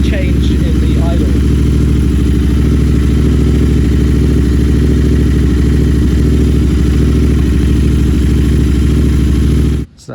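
A Royal Enfield Interceptor 650 parallel-twin idles steadily and loudly up close while the handlebars are turned through full steering lock, the even rumble never changing before it cuts off abruptly at the end.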